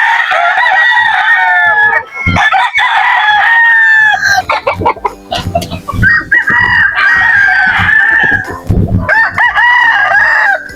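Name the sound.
chickens clucking and roosters crowing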